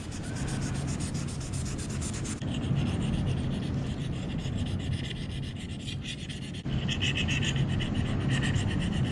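A fine-grit Velcro-backed rubber sanding strip rubs sticker residue off a surface, a steady continuous scrubbing with brief shifts in stroke, close and fairly loud, with no talking.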